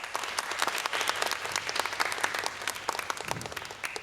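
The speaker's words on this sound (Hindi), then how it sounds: "उनके इंट्रोडक्शन से पहले ही उनके लिए तालियां।" A talk show studio audience breaks into applause for the guest, sustained and even clapping from many hands, moderately loud and without talk.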